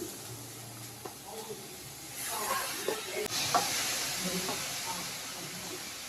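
Chopped knol-khol (navalkol) goes into a hot cooking pan, starting with a few light knocks, then a louder hiss and crackle of frying that holds steady for the rest of the clip.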